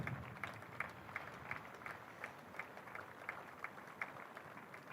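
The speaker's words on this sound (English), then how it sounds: "and he gets this applause" A county cricket crowd at a Derbyshire versus Worcestershire match applauds a departing batter, a thin, distant pattering of claps heard against gusting wind.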